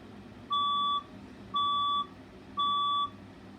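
A fire alarm test sounds three evenly spaced electronic beeps, each about half a second long with short pauses between them. The tones are loud, steady and clear against faint background noise, and nobody speaks.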